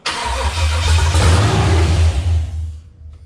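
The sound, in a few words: V8 car engine starting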